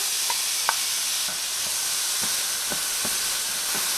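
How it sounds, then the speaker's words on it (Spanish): Finely chopped onion fries in butter in a pan with a steady, loud sizzle, broken by a series of soft scraping stirs spaced through the whole stretch. No one speaks. "en un sartén agregamos la mantequilla, agregamos media cebolla cortada bien pequeñita"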